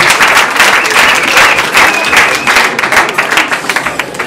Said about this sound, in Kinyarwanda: Reka mvuga ngo bose n'amashyi.